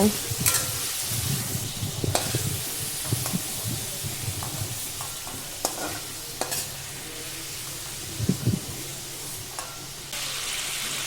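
Prawns fry in hot oil, a continuous close sizzle and crackle with occasional stirring scrapes and spatters, loud and even throughout.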